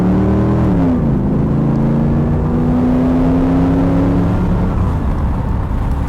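A Pontiac Trans Am GTA accelerating hard from inside the cabin: a loud engine roar whose pitch dips as the automatic transmission kicks down, then climbs steadily under continuous road and wind noise.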